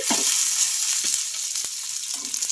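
Chopped tomato and green chillies frying in oil in a pan, a close, steady crackling sizzle with a few soft stirring knocks.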